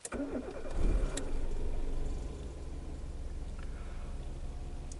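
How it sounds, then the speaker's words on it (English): Nissan Primera car engine started with the key: a brief starter crank that catches within about a second, then settles into a steady low idle, close by with no talk. "then we are turning on the engine"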